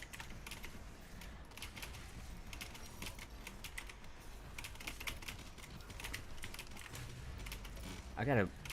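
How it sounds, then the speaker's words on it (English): Rapid, fairly loud clacking of keys on a computer keyboard at a PC, with irregular bursts of keystrokes throughout over a faint room background. "How loud are the keys that I'm banging on?"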